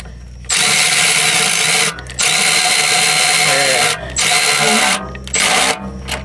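Power tool buzzing in bursts while loosening a bolt on a C4 Corvette starter during a driveway repair, several loud whirring runs broken by short pauses, close up.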